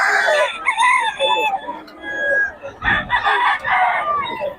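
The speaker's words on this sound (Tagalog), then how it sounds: "Solid mga manok ni Boss Batang ngayon" Roosters crowing and hens clucking at a farm, with several overlapping calls rising and falling loudly and close by across the whole stretch.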